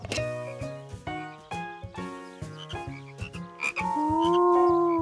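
Cartoon frogs croak in bouncy, musical bursts, a string of short tonal calls that swell into a longer sustained croak near the end, fairly loud with no talking.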